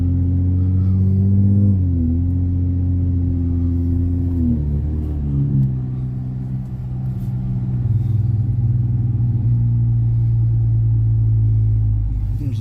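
A car fitted with a Magnaflow Magnapack exhaust revs up in a few throttle blips, then settles into a deep, steady idle rumble, close and loud.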